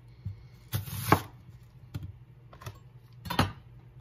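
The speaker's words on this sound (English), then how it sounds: "I'll cut a little slice of the onion" A knife cuts through an onion on a cutting board in a home kitchen, giving a few separate crisp chops with short pauses between them, close up and with no one talking.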